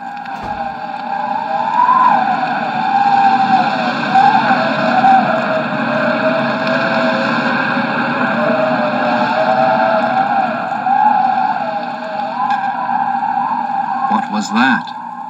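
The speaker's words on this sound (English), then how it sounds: "That? The wind." Wind howls and whistles in a wavering, rising and falling tone over a constant low rush, sustained and fairly loud throughout, with a brief rustle near the end and no voices.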